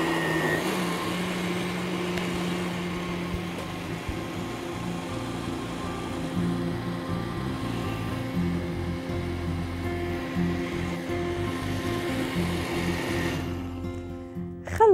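An electric blender whirs steadily while mixing mango juice with honey. The motor drones on for most of the clip, and its pitch shifts near the end as it winds down.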